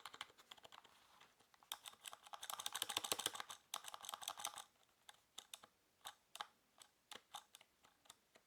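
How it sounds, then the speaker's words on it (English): Fingers type on a Havit quiet LED backlit keyboard, giving a quick run of soft, muffled clicks that thins out into scattered, separate keystrokes. "So that's the Havit Quiet LED Backlit Keyboard."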